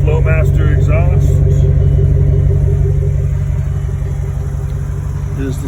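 A 1990 Ford E-250 4x4 XLT Club Wagon van with a Flowmaster exhaust idles nearby, giving a steady, loud low rumble throughout, with a person talking over it.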